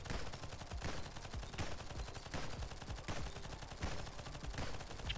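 A sniper rifle modified to fire like a flak cannon in the Nimrods Guncraft Survivor video game: repeated heavy gunshots in a steady rhythm, with booming low thuds over a busy backdrop of game noise.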